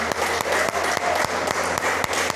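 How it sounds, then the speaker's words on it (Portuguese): Church congregation applause fills the space, a dense steady wash of many hands clapping with a few sharper regular claps standing out, loud and close with no speech over it. "pode aplaudir o Senhor"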